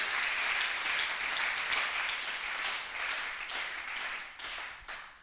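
A church congregation applauds steadily, a dense wash of many hands clapping at close range that thins out toward the end.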